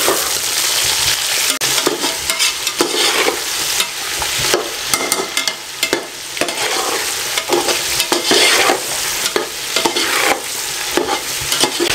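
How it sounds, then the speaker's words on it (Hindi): One kilogram of chicken frying in a pot with onions for Afghani Kabuli pulao, with a steady crackling sizzle and repeated stirring scrapes, loud and close throughout. "1 किलो चिकन इसमें शामिल कर दें और चिकन को अच्छे तरीके से इसमें फ्राई कर दें"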